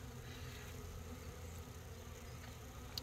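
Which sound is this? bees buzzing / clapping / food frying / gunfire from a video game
bees buzzing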